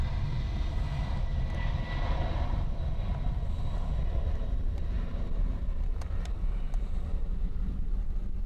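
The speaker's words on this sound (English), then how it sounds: "The jet just taken off." A jet aircraft takes off at Essendon airport in Melbourne, a steady, heavy engine roar mixed with wind buffeting the microphone, continuous throughout with no voices.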